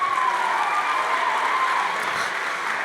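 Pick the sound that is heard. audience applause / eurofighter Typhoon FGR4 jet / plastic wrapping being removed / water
audience applause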